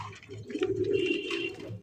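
Golla pigeons, a fancy breed, cooing close by in a short, soft, low rolling coo lasting under two seconds, with no talking.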